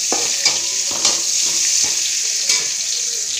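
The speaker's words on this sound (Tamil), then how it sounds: "நல்லா பதங்கட்டும் வெங்காயம்." Onions and green chillies sauté in a pan for beetroot poriyal, a steady close sizzle with periodic stirring scrapes roughly every half second, no voices.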